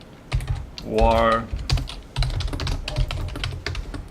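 Steady computer keyboard typing runs through most of the clip, a close, busy clatter of keystrokes with a brief spoken word and a short rising tone near the start.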